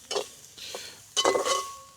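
Dried anchovies frying in oil in a pan are stirred, giving a few separate scraping strokes and then a longer busy stretch of clinks and sizzle, close and fairly loud, with no one talking.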